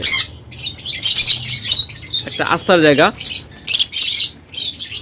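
Caged birds at a bird market chirp and squawk in bursts around someone speaking Bengali, with one longer warbling call standing out in the middle, near and fairly loud.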